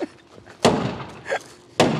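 Baseball bat striking the steel door of a Tesla Cybertruck, two heavy slamming thuds about a second apart with a lighter knock between, close and loud.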